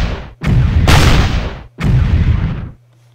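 Two heavy booming shots from German 88 mm guns in the Battle Academy video game, each a loud blast with a long rolling tail, fired in quick succession without any talk.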